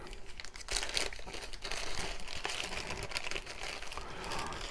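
A plastic bag holding parts of an Armory Models 1/144 Su-24M model kit crinkles and rustles up close, quiet but busy with irregular crackling handling sounds and no speech.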